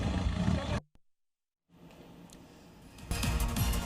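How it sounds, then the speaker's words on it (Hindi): Tigers roar loudly around tourists. Two forceful bursts are split by a brief stretch of dead silence. "इस दौरान बाघों की दहाड़ सुनकर सैलानियों में रोमांच और दहशत का माहौल बन गया।"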